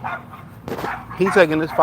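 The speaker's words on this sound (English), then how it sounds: "So tired of that dog barking every day." A dog gives sharp yapping barks under a voice, with the barks and speech overlapping closely in a brief outdoor moment.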